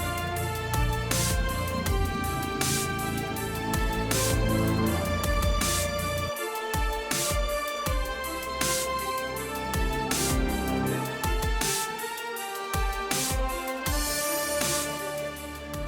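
Loud, dense orchestral music for a video game mech robot's attack, with driving brass and strings and heavy low percussion hits, sustained throughout with no pauses, like an intense game battle theme.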